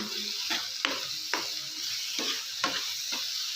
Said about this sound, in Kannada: ಚೆನ್ನಾಗಿ ಮಿಕ್ಸ್ ಮಾಡ್ಕೊಳ್ಳೋಣ